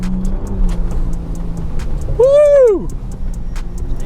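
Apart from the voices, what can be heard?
Ford Bronco Raptor driving through a big puddle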